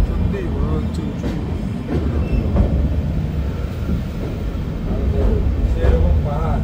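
Train 13125 travels from Kolkata toward Sairang in the hills of Mizoram, heard from onboard as a steady, loud rumbling roll with scattered light clacks throughout.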